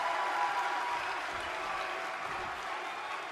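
Crowd cheering and applauding in the WWE 2K23 wrestling video game, a steady dense roar of arena noise that holds at even loudness throughout.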